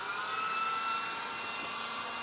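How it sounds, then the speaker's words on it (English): Cordless Dremel 8200 rotary tool spinning at speed against a circuit board track in a transistor radio, a steady high-pitched whine with no talk over it. "It's a Dremel 8200 for anybody wanting to know."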